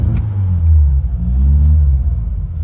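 A Hillman Imp rally car engine idles nearby while still cold, giving a steady low rumbling drone with a slight rise and fall in revs and no voices.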